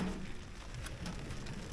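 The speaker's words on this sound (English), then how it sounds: "Because Kenya has decided to rain on us." Steady, faint rain falls outdoors in Kenya near a Honda motorbike parked on muddy ground, a soft continuous patter with no voices.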